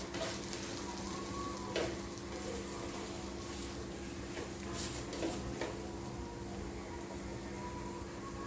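A veg omelet fries in a pan with a soft, continuous sizzle, quiet and close, broken by a few light clicks and taps.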